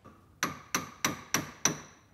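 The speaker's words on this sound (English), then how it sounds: "I'm just going to very carefully with a hammer give them a little bit of tap so it'll sit down in there like we want it" Hammer tapping metal tabs on a front axle seal of a John Deere 4300 tractor: five sharp, evenly spaced metallic taps, close and moderately loud, each ringing briefly.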